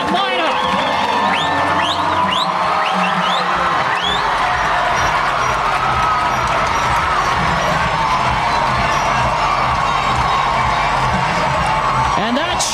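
A high school football crowd at an American Fork home game roars and cheers after a touchdown, a loud, sustained wash of shouts and whoops from a large gathering, with voices talking over it.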